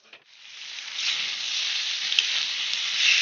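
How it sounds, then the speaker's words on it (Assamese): Chopped young jackfruit curry frying in oil in a pan, a steady soft hiss and sizzle that swells after a brief scrape at the start and holds evenly, close and unaccompanied by voices. "এইখিনি ভাজি প্ৰায় হৈ গ'ল"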